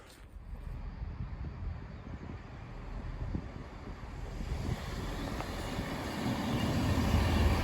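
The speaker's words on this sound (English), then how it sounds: "Train's just arrived, it doesn't go back for another 10 minutes." A train pulling into Ashington station at the end of the line from Morpeth, heard as a low, steadily building rumble under wind buffeting the microphone, growing louder toward the end.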